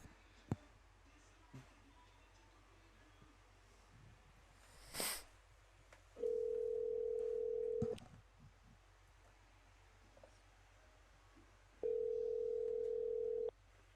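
Telephone dial tone while placing a call, two steady sustained tones of about two seconds each separated by a pause, loud against a quiet room with faint clicks and a brief noise burst.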